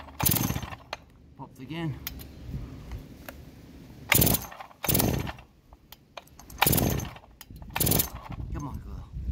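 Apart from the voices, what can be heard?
Farmertec G366 chainsaw being started with choke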